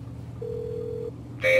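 Dialing tones on a telephone in the Nancy Drew: Secrets Can Kill video game remaster, a single steady tone of about a second followed by another tone starting, over a quiet low hum.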